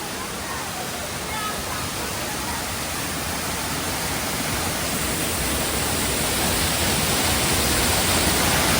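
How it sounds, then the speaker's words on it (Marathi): A steady, dense roar of rushing water fills the whole clip, constant and loud, from Somtirth (Nivendi) waterfall in the monsoon season, pouring without pause. "तर हा आहे सोमतीर्थ धबधबा अर्थातच निवेंडी वॉटरफॉल"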